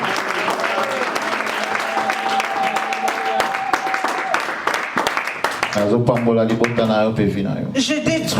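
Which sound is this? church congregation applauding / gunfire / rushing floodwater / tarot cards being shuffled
church congregation applauding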